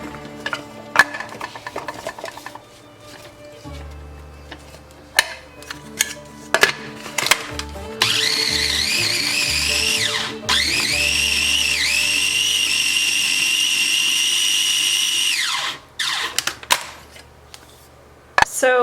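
A food processor set to chop and then grind, whirring bread into fine breadcrumbs for burger patties: clattering handling and taps first, then a loud, steady motor whine that rises and holds for several seconds before stopping, with a brief second burst.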